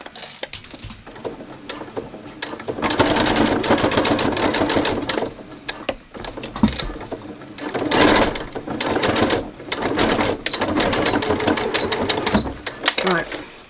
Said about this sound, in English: top stitching done